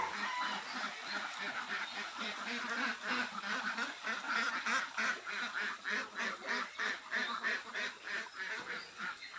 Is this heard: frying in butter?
no